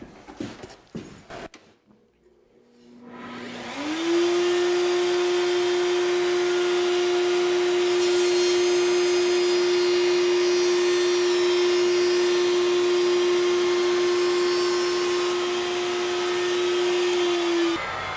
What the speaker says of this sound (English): So let me fire up the router table again and see where we landed.